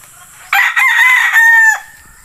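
A young rooster, a stag, crowing once loud and close: a rising, strained cock-a-doodle-doo lasting just over a second, with a rough start and a clear held final note, no talk.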